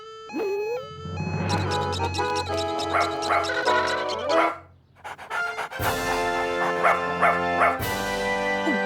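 A cartoon dog barks and yips repeatedly over bright musical tones, loud and close, with a brief pause midway before the yapping resumes alongside the music.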